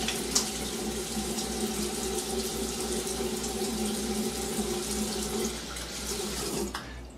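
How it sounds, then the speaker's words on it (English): Tap water runs steadily into a sink for several seconds while a freshly razor-shaved head is rinsed, a continuous close splashing hiss that cuts off near the end. "Let me rinse my head real quick"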